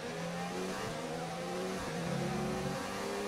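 Formula 1 cars with a Honda engine race in F1 2019, a steady high engine whine with shifting pitch as cars run close together, loud and continuous with no talking.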